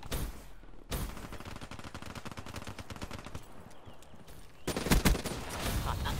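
Rapid assault rifle fire in a video game, a dense rattling burst of closely spaced shots running nearly the whole time, pausing briefly before a louder final volley.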